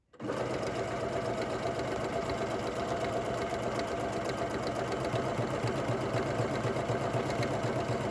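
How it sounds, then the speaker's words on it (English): A sewing machine stitches a buttonhole, running steadily and continuously at close range for the whole stretch with a dense mechanical whir and fast rhythmic needle clatter, no voices present. "I'm going to let my machine do its job. It's going to do a buttonhole for me."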